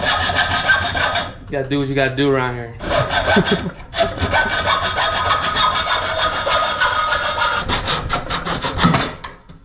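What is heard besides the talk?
handsaw cutting intercooler pipe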